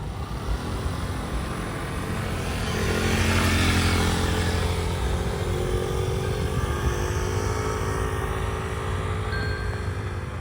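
A motorcycle engine running at a CBT training session after being started with the button, a steady, loud droning hum that swells slightly as revs rise, with no talking.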